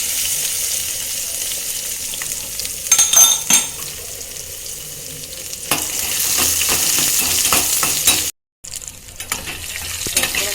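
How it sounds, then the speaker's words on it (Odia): Crushed unpeeled garlic fries on low heat in a pan, a steady close sizzle with a few clattering stirs and scrapes; the sound cuts out briefly near the end and then resumes. "ଆଉ ଟିକେ ଭାଜି ହେବ, ମୁଁ ସିମ୍ରେ ଭାଜୁଛି, ରସୁଣ ନହେଲେ ପୋଡ଼ିଯିବ"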